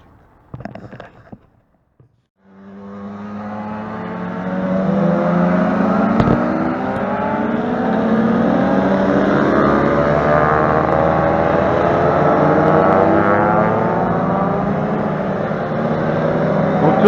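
Race cars on a warm-up lap to bring their tyres up to temperature, a steady loud engine drone that builds after a short pause and holds with little change, fairly close.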